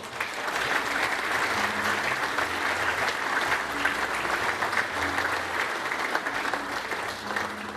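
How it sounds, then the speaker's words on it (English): Sustained applause from a dinner crowd at a cricket celebration in a leagues club, steady dense clapping filling the room without a break, with no speech over it. "I think we should show the boys a round of applause"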